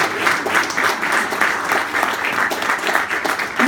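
Steady, dense applause from a crowd at a 70-year anniversary celebration, sustained clapping throughout without pause.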